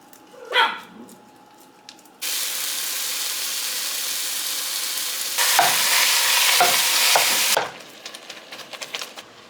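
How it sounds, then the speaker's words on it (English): Ground beef seasoned with cumin and oregano fries in a pan with a loud, steady sizzle that surges when stirred. A dog barks at the start and there are scattered clatters as the frying dies down near the end. "I'm going to give everything a good stir"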